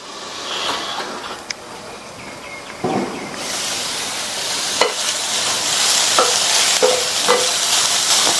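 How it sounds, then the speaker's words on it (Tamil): Snake gourd sautéing in a generous amount of oil in a pan, giving a steady sizzle with occasional scraping stirs and clinks of the spoon against the pan. "இந்த காய் எண்ணெயிலே வதங்கி 3/4 பங்கு அளவுக்கு வெந்து வரட்டும்."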